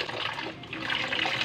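Tap water runs steadily while anchovies (dilis) are rinsed for kilawin, a continuous close splashing wash with no speech.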